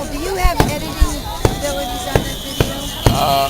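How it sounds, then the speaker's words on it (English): Fireworks bursting at the Albuquerque Balloon Fiesta, a series of sharp booming explosions at irregular intervals, moderately distant, under crowd noise and people chatting nearby. "But the fireworks only go up like 300 or 400 feet."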